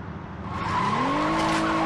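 A car in the Saints Row 2 video game revs up and pulls away, its engine tone rising into a steady loud drone with a faint tire squeal, and no talk over it.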